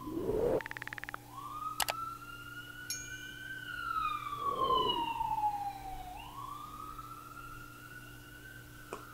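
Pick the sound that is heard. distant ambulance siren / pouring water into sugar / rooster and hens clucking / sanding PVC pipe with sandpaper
distant ambulance siren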